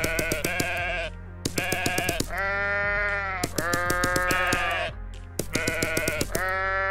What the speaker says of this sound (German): Ein paar Schafe